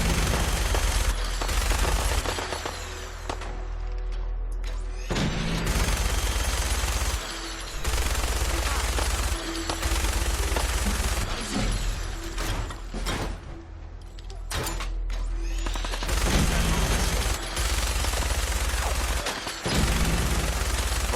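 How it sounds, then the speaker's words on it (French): A minigun in Fallout 4 firing in long sustained bursts, a dense rapid rattle broken by a few short pauses, loud and close throughout with other game noise mixed in. "La précision du minigun, elle est horrible."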